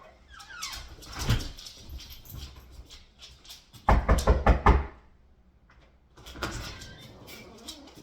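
Knocks land on a door from close by, first scattered and then a quick, loud burst of raps, followed by quieter shuffling and faint thuds of a dog moving around indoors.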